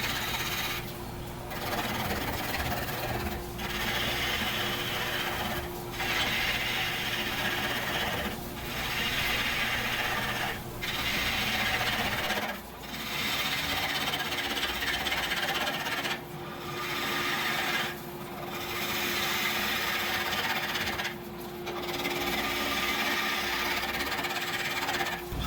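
A bowl gouge hollows a natural-edge maple burl bowl on a lathe running at 1,000 rpm: a continuous loud rasping cut over a steady hum, easing off briefly at regular intervals as each pass ends.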